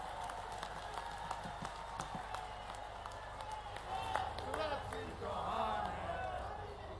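Audience applause at a civil hospital inauguration event in Ganjbasoda, steady dense clapping from a crowd with some voices mixed in, swelling louder toward the end.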